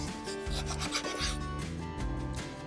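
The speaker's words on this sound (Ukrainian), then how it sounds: "Зрізаємо шкірочку і будемо сало нарізати порційними шматочками." Knife cutting the skin off a slab of pork fat (salo), a soft rhythmic rasping scrape repeated in short strokes, close and fairly quiet with no talking.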